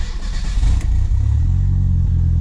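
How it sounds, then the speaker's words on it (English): A Merkur XR4Ti engine catches and settles into a loud, close idle with a slight rev, its exhaust broken and loose, the low rumble steady after the start. "the car starts right up"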